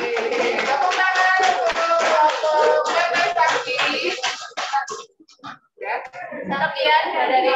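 An audience claps hands at the close of a teaching session. Loud, brisk clapping runs for several seconds, breaks off into scattered claps, then swells again briefly.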